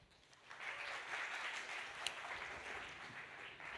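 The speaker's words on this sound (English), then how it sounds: "Give a hand of applause to Sprite," A live audience at a startup demo day event claps for a marketing lead taking the stage, a steady mid-level wash of hand claps swelling after a soft start and holding to the end, with no speech.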